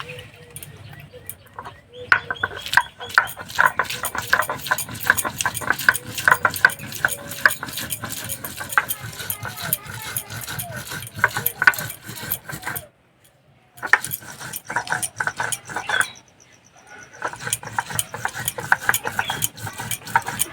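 Whole coriander, cumin, garlic cloves and chopped ginger ground together on a stone slab, a steady rhythmic scraping and grinding close up, continuous with two brief pauses.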